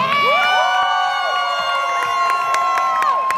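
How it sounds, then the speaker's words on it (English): Audience at a solo shag dance competition cheers and whoops loudly for the finalists, with bright shouting and high-pitched voices, children's among them, sustained throughout over a dense crowd roar. "a big round of applause for all of these finalists"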